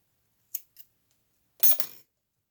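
Scissors snip crochet yarn while finishing a granny square slipper: two quick, crisp snips close up, then a longer, louder cutting burst after a short pause.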